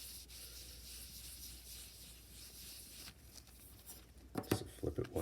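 Sandpaper rubs rust off a knife blade in close, quiet, steady scratchy strokes, becoming louder and more uneven near the end as a voice speaks briefly.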